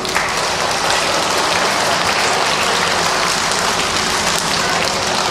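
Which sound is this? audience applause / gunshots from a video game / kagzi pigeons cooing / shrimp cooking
audience applause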